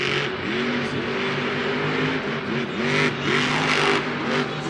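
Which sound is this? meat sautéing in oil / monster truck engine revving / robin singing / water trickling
monster truck engine revving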